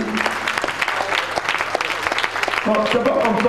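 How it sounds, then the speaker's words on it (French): A church congregation at an evening prayer vigil in an open-air centre applauds and cheers to welcome a speaker. Dense, steady clapping mixed with voices fills the whole stretch, with a brief sung or spoken tone near the end. "C'est pourquoi sous vos ovations, vos acclamations, en notre Dieu, nous accueillons Papa Aurélie."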